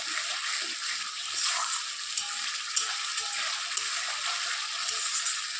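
Steady hiss and sizzle of biryani masala frying in a pan on a wood-fired stove, with soft scraping stirs throughout, close and continuous.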